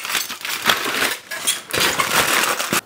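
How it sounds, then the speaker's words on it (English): A knife slicing through a rested, smoked, cured and stuffed pork belly, with steady crunchy crackling as the blade cuts the crisp rind, loud and close with no talking. "It's rested for like 40 minutes, and it's time to cut this bad boy."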